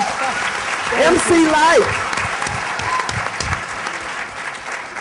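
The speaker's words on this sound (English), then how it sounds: "Give a big round of applause." An audience applauds steadily through the whole stretch, with a voice speaking briefly over the clapping near the start.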